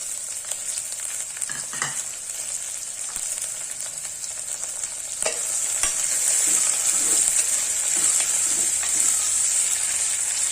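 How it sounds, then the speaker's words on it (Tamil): Carrots, peas and other vegetables sauté in a pan for a wheat rava kichadi, giving a steady close sizzle and crackle throughout, with occasional stirring scrapes and a slight rise in intensity partway through. "இந்த காய்கறியும் குழம்பு மிளகா கேரட்டு பட்டாணியும் சேர்த்துறேன்"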